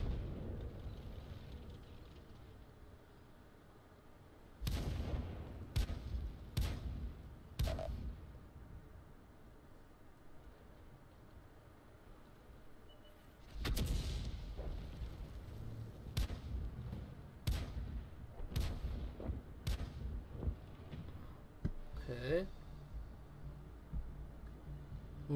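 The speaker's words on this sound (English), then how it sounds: "at least some artillery is doing something" Artillery fire in the World of Tanks video game, heavy booming blasts in two clusters followed by several sharp shorter cracks, distant and rumbling against a quiet background.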